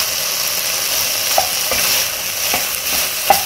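Chicken cooking in butter in a pan, a loud steady sizzle punctuated by repeated scraping strokes of a spoon or spatula as it is stirred, close up with no talking.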